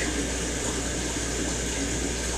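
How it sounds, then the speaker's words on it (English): Water steadily pouring into an aquarium tank during a water change, a continuous broadband rush with a low hum beneath it, even in level from start to finish and with no voices. "Tank is filling."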